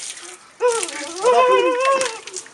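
Water is splashed onto a person's face in a quick gush, followed by wet spattering, while excited voices shout and laugh close by.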